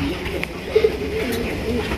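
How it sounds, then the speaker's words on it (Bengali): Racing pigeons at a pigeon market coo softly in a couple of low, brief calls, heard close amid murmuring voices and background chatter. "হাই কোয়ালিটির একজন রেসার কবুতর, একদম নতুন 23 কবুতর"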